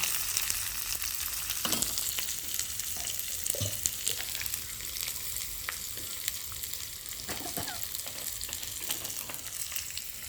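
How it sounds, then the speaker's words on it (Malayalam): Small onions sauté in hot oil with spluttered mustard seeds for a home-style ivy gourd curry: a steady, close sizzle with scattered pops and stirring clicks, and no talking. "ഇവിടെ കടുക് പൊട്ടി നമുക്ക് ഇതിലേക്ക് കുറച്ച് ചെറിയ ഉള്ളി ഒന്ന് വഴറ്റിയെടുക്കണേ"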